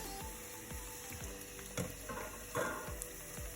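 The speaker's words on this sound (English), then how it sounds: "plop it in your oil and let that sit there for," Battered chicken pieces fry in hot oil, giving a quiet, steady sizzle with light bubbling and a few sharper spatters and clinks close by.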